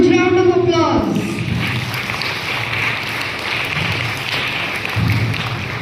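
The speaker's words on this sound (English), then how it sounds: "Give him a huge round of applause." An audience gives Father Rupesh a round of applause at a farewell gathering. A voice comes first, then a broad, steady wash of clapping continues at moderate loudness to the end.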